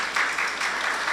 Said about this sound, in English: I think we owe the chairman another round of applause